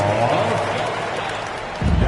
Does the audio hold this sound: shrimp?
no